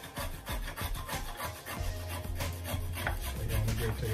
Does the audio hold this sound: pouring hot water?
no